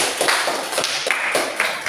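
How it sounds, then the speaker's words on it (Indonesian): Scattered classroom claps for a student, a few sharp hand claps spaced irregularly over low room noise, fairly soft and without talk. "Ya, bagus sekali. Beri tepuk tangan."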